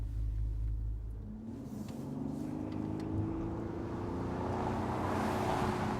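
A 2009 Bentley Continental Flying Spur accelerates with a deep, steady engine burble, the note rising smoothly as it holds one gear, heard from inside the car with continuous road rumble and no talk.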